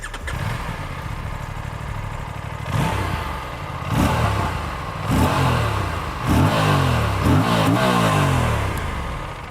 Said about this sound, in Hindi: इंजन के बारे में बात कर ही रहे हैं तो पहले एग्जॉस्ट नोट से शुरुआत करते हैं